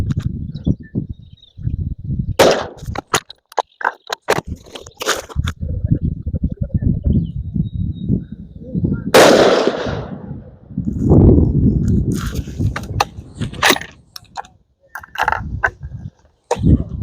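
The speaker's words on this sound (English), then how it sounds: "Three more shots, and I'll shoot the gun." Rifle shots at an outdoor shooting range during load development, several sharp loud cracks spaced irregularly across the stretch, with a louder burst near the middle and voices talking between them.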